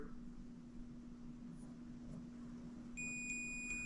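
A multimeter continuity test beeps while checking the trunk mechanism wiring of a 2018 Audi S5 B9, a steady high electronic tone cutting in near the end over a low background hum.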